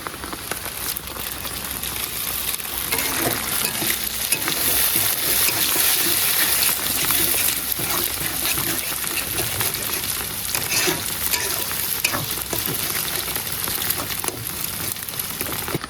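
Two eggs sizzle and fry in a pan for a gourd-and-egg dish, producing a continuous, loud crackling hiss that holds steady from start to finish without talk.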